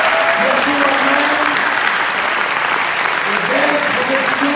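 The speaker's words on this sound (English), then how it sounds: "Je voudrais qu'on remercie et qu'on applaudisse très fort" An audience claps loudly and steadily after a film screening, a dense, sustained wave of applause with faint voices mixed in.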